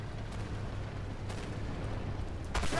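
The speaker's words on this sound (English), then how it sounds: "And there's artillery." Artillery shells land in the tank combat game Armored Warfare, a steady low rumbling barrage with a few sharper blasts near the end, heavy and continuous throughout.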